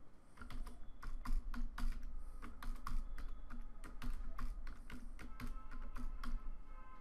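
Project name being typed on a computer keyboard during Android Studio setup: a steady run of close, crisp key clicks in quick irregular rhythm, with no talking.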